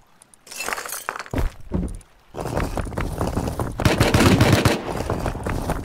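Tommy gun bursts ring out in the survival game Rust, with loud rapid automatic gunfire arriving in several bursts separated by short pauses, some shots crackling with a sharp, shattering edge.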